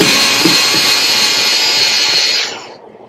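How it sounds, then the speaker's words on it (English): A handheld power drill runs in reverse to back small screws out of dollar-store furniture, a loud close high whir that holds steady for over two seconds and then winds down to silence. "So I'm going to put it in reverse and just get these little screws out again."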